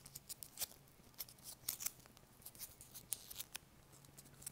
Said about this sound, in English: Simply folding the triangle in half.